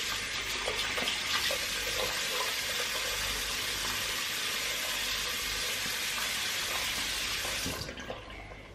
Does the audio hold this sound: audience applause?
no